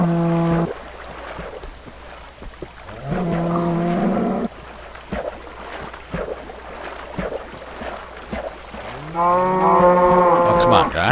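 Minecraft cows moo loudly in several long, harmonic lows spaced apart, one early, another midway and a rising one near the end, with scattered game clicks and footsteps between them.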